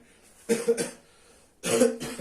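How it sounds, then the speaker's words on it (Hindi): Two harsh coughs, the second longer and rougher, close by with no speech. "इसमें यार खांसी हो रही है"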